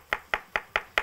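A knife chops garlic on a board in five crisp, evenly spaced strikes, close and clear with no voices.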